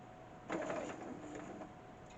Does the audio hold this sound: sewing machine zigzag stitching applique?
yes